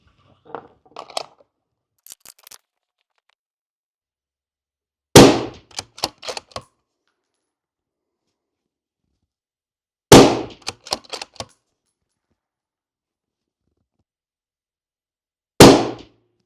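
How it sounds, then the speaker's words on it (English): A Tikka T3x ACE Game rifle fires three loud, sharp shots several seconds apart, each followed by brief echoing clatter, with faint soft sounds before the first shot and silence between shots. "This rifle shoots."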